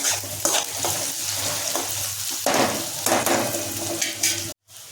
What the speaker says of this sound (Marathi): कांदा मिरची फोडणीला टाकली आहे।